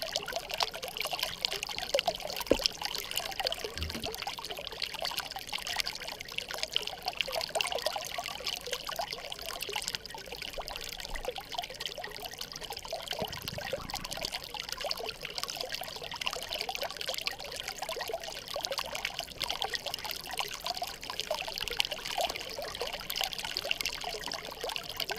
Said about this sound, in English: I'm going to attach this to the water bottle that I was drinking on the way up, and I'll be able to keep my water in there and filter it from the top